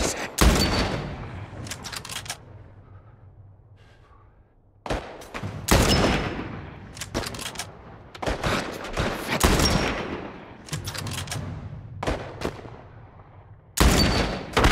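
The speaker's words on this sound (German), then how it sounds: "Ich hoffe bloß, dass die Schüsse jetzt nicht zu laut sind." Repeated bursts of gunfire in The Last of Us Part I, a PC action game, with sharp loud volleys separated by short quiet gaps over a low ambient rumble.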